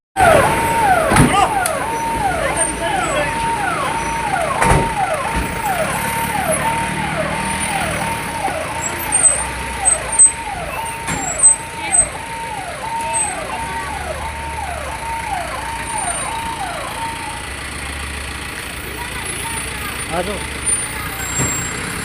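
A vehicle moves slowly through a dense crowd with security personnel, its engine and horn-like tones running steadily beneath loud, overlapping shouting from the people nearby.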